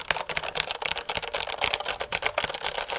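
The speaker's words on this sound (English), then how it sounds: "this is a Corsair K63 wireless keyboard, much more of a thocky kind of feel to it" Rapid, steady typing on a Corsair K63 wireless mechanical keyboard, dense thocky clacking keystrokes close up with no voices.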